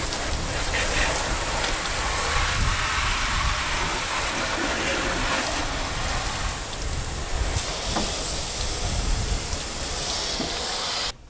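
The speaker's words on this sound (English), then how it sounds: "I'm gonna simulate some rain and see if we can pinpoint where it's coming from" Water sprayed steadily over a Ford Mondeo Mk4 to simulate rain, a loud continuous hiss and patter of droplets drumming on the bodywork, unbroken for the whole stretch with no voices.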